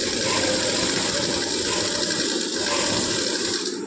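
Sewing machine stitching a coat along its seams, a continuous close mechanical hum and rattle throughout the short stretch.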